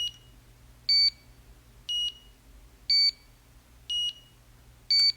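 Six crisp electronic beeps roughly one second apart from a HONMAX 8800 gym timer set to its second sound option, alternating slightly between two pitches, clear and close over a low hum.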